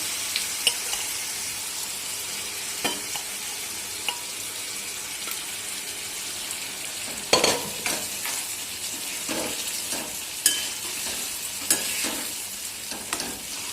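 Mutton vajadi being stirred in oil-fried masala, giving a steady oily sizzle with scraping spoon strokes and occasional louder clinks against the pan, continuous and close with no talking.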